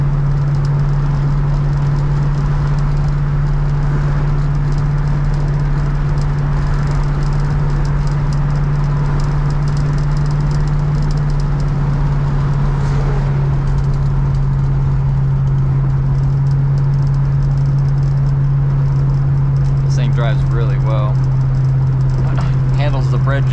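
A 1966 Ford Fairlane GTA convertible cruises at 45 to 50 mph, giving a steady low engine drone with a constant wash of road and wind rumble for the whole stretch, a voice coming through at times.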